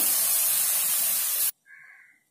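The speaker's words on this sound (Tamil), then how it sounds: "இப்போ இதுல தண்ணி விட்டுக்கோங்க லேசா." Water poured into a hot pan of kulambu with chilli powder erupts in a loud, bright sizzling hiss for over a second, then cuts off abruptly, leaving a faint softer tone that fades out.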